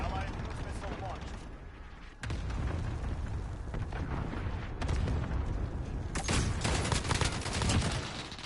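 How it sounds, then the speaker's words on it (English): A cruise missile strike in Call of Duty: Modern Warfare, heard as heavy booms and bursts of gunfire over steady battle noise, with big impacts arriving a couple of seconds apart. "Allied cruise missile launched."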